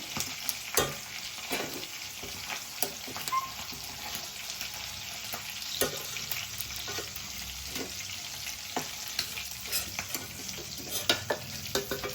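Chilies frying in hot oil in a pan, for a dried fish and tomato curry; a close, continuous sizzle with repeated stirring scrapes and occasional sharper clicks, with no voices.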